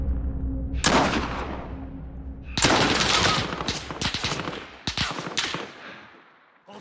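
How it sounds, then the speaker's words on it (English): Sniper rifle shots in a shooter game ring out as several sharp, loud cracks, with a long echoing tail after the first and a quicker burst of reports later, mostly without talk. "Sniping shots."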